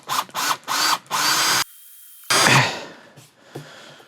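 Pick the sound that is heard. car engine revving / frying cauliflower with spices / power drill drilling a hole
power drill drilling a hole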